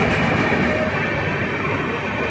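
The Dhauli Express on the Puri–Howrah route rolls slowly under a temporary speed restriction, a steady close rumble of wheels and carriages with a continuous broadband roar.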